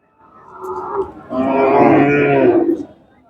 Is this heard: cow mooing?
yes